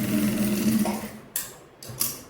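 A sewing machine runs a half-inch seam on a designer kurti with a side dori, a close, steady whirring for over a second before stopping, followed by two sharp clicks.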